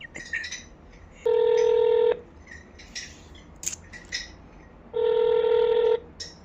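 Two long telephone ringback tones sound on a call to a city municipality office, each steady burst lasting about a second, separated by a pause, with faint background noise between them and no talk.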